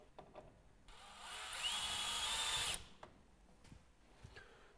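A power drill drives a screw into the bracket of a Velux centre-pivot roof window, a close whirring burst of under two seconds framed by faint handling clicks and taps, with no voices.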